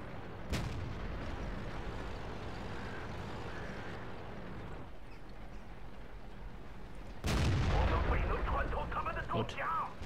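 A tank gun fires in the video game World of Tanks: a sharp blast early, then a louder shot with rumbling, rattling aftermath later, over low engine drone.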